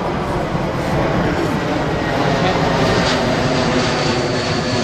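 Aircraft engine roar at an airport, a steady loud broadband drone running unbroken throughout, close and dominant with no other clear sounds.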